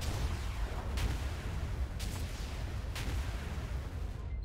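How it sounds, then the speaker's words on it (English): Indirect artillery fire from a tank in a video game: three distant booming shots land about a second apart over a steady low rumble of battle noise, with no voices. "now we lay down the indirect fire"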